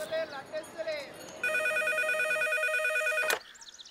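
A telephone rings with a steady electronic warble for about two seconds after a call is placed, then cuts off; a voice is heard briefly beforehand.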